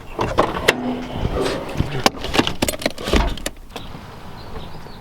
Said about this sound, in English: we're gonna move this car forward so we can continue working on it